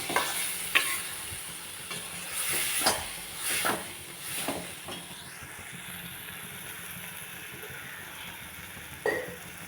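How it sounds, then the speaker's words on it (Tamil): Chili, coriander and turmeric powders sizzle steadily in a hot pan while a utensil scrapes and stirs in several distinct strokes, close and fairly quiet. "ரெண்டு ஸ்பூன் மிளகாத்தூள் ஒரு ஸ்பூன் மல்லித்தூள் கொஞ்சமாக மஞ்சள் தூள் போட்டு நல்லா வதக்கிடலாம்"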